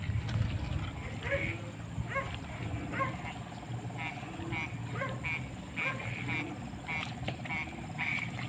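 Frogs croak repeatedly at night against a steady hum of insects, close and fairly loud, with faint voices in the background.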